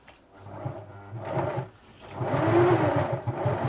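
An '80s Singer Futura Electronic 2002 sewing machine runs unthreaded on straight stitch, a close, steady mechanical whir with a fast rhythmic needle chatter that speeds up and grows louder partway through.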